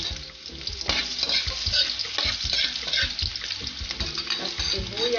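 Garlic and onion sautéing in a pan for pansit guisado (bihon), with loud sizzling and frying, repeated stirring and scraping knocks, and bits of running water, all close and busy.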